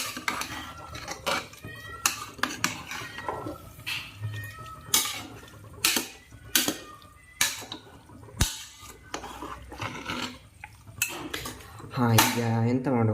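A spoon scrapes and clanks against a pan as country chicken curry is stirred, with sharp metallic knocks in an irregular rhythm. A cat meows near the end.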